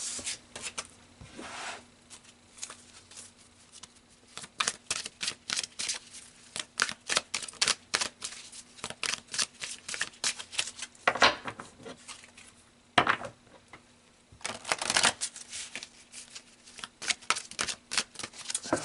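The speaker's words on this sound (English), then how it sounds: "So let's pull some final cards here." Tarot cards being shuffled and pulled from the deck, a run of crisp riffling and flicking bursts with soft slides and taps in between, close and fairly quiet with no talking.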